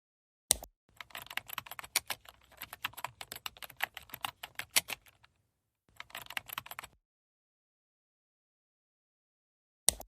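Quick, crisp keystrokes on a computer keyboard as a password is typed, first in a long steady burst, then a short second run, with a single click at the end and silence in between.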